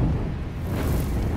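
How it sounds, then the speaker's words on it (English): Fireworks bursting in The Evil Within video game, a dense rumbling, crackling roar with no clear gaps. "Fireworks, yes."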